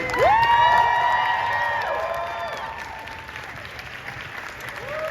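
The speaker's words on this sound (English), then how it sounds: "please, a standing ovation, round of applause for Mr. Sanjay Leela Bhansali." A studio audience at a Q&A for the 2024 series Heeramandi gives a standing ovation, loud sustained applause mixed with cheers and whoops, while drawn-out musical tones sound over the crowd and slowly fade.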